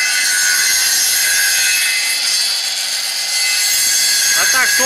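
Wood being sawn on a homemade copying lathe built mostly from scrap metal, set to slow rotation and slow feed for a clean cut. A loud, continuous grinding rasp runs throughout, with a brief voice near the end.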